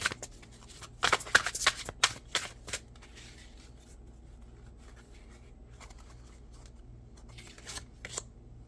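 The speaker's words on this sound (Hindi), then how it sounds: "मैं 2 कार्ड्स निकालूंगी।" Tarot cards shuffled and drawn during a reading, close crisp riffling flurries and slaps in the first few seconds, then near quiet with a last soft flick of a card near the end.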